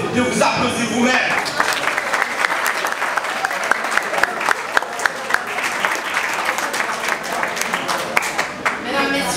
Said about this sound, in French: Je demande à l'assemblée de vous applaudir vous-même.